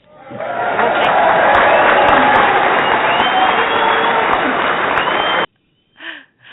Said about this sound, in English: we wanted to give you a round of applause